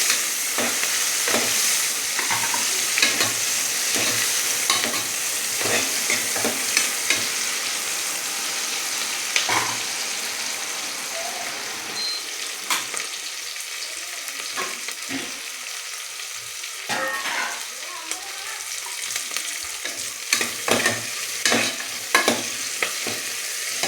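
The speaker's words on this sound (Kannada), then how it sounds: "ಈರುಳ್ಳಿ, ಸ್ವಲ್ಪ ಪುದೀನ, ಸ್ವಲ್ಪ ಕೊತ್ತಂಬರಿ ಇದಿಷ್ಟು ಹಾಕ್ಕೊಂಡು ಫ್ರೈ ಮಾಡ್ಕೊಳ್ಳೋಣ" Onion, mint and coriander fry in a pan with a loud, continuous close-up sizzle, broken by frequent stirring scrapes and clatters of a spoon against the pan.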